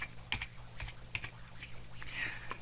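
Keys tapped on a computer keyboard to enter a username, a quick irregular run of close, crisp clicks with short pauses between bursts, heard alone over a low steady hum.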